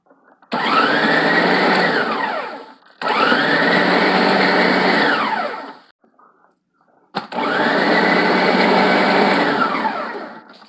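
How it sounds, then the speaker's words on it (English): Food processor pulsing shredded coconut in three loud whirring bursts of about two to three seconds each, with brief pauses between, the motor spinning up and winding down each time. "Let me go get the food processor"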